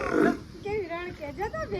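A young buffalo calf gives a couple of wavering, nasal calls at close range after a short burst of noise, with a quiet outdoor background.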